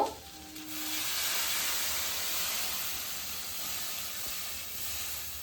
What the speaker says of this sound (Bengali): আমি এবার ঝোলের জন্য পরিমাণ মতো জল দিয়ে দিব